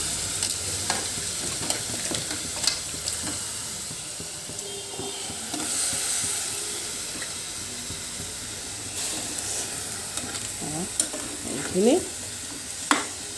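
Vegetables frying in hot oil with spices in a pan, a steady close sizzle and hiss with occasional stirring clinks, a brief voice heard once.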